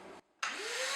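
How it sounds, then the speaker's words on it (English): A vacuum cleaner sucks leftover wood pellets out of the hopper of a Z Grills 450A pellet grill. It runs loud and steady, cuts out for a moment, then restarts with a rising whine. "The final few we can just vacuum out."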